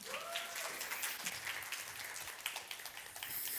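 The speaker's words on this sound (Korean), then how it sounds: "큰 박수로 환영해 주시면 감사하겠습니다" A church congregation at a Sunday service claps in welcome for a preacher coming forward, a steady room-filling patter of many hands with no voices on top.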